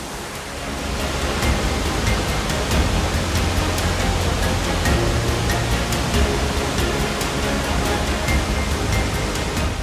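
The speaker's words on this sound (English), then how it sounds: "This is the biggest waterfall I have ever witnessed up close." Pulhapanzak waterfall roaring up close, a loud, steady wall of broadband rushing water that fills the whole clip without letting up.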